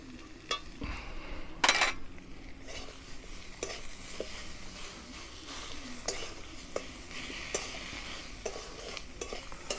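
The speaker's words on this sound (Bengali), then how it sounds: "এখন আমি মশলাটাকে কষবো, এর সঙ্গে সঙ্গে আমি এতে দিয়ে দেবো কুচিয়ে রাখা টমেটো এবং কাঁচা" Spice paste with chopped tomato and green chili fries in a pan, a low continuous sizzle broken by frequent scraping stirs and clinks of a spoon against the metal, with one louder clatter early on.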